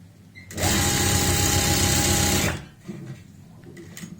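A sewing machine runs in one steady, loud burst for about two seconds, stitching a zip onto palazzo pants, then stops, leaving faint handling noises.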